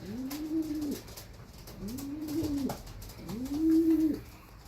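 Racing homer pigeons coo three times in a steady rhythm, each call a drawn-out, low, rolling coo heard close and clear over faint background noise.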